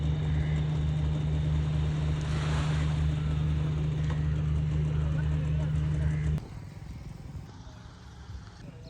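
Strong sea wind buffets the microphone beside Vizhinjam harbour, with a low roar of waves and surf underneath, loud and continuous before dropping abruptly to a quieter wash near the end.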